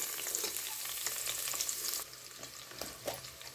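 Whole spices with shahjeera frying in hot oil for mint pulao give off a dense, bright sizzle that crackles steadily throughout, easing slightly in loudness partway through.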